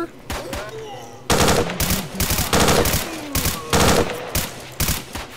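Automatic gunfire in S.T.A.L.K.E.R.: Shadow of Chernobyl, with several loud, close bursts of rapid shots separated by short pauses and game ambience between them.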